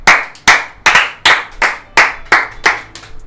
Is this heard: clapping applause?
yes